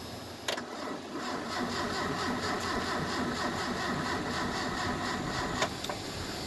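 A 1986 Ford Mustang SVO engine cranks and catches on a cold start, then settles into a steady, moderately loud idle with a brief click at each end.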